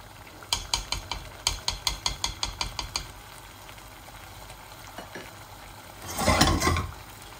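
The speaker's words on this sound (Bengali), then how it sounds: "এটা কষা বোনা হবে এইভাবে নাড়তে চাড়তে" Chicken bhuna stirred in a cooking pot: a quick run of about a dozen close, rhythmic scraping strokes, a quieter stretch, then a louder burst of sizzling near the end.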